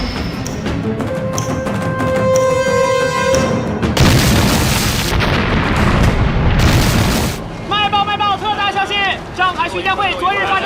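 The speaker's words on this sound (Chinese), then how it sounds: "徐家汇昨日发生大爆炸，伤亡情况不明" A big explosion in a wartime spy drama set in Shanghai's Xujiahui district: two loud, roaring booming blasts erupt mid-scene over dramatic music, followed by quieter choppy sounds that may be voices.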